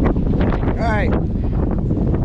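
Strong outdoor wind buffets the microphone in a constant loud rumble, while a person speaks briefly over it.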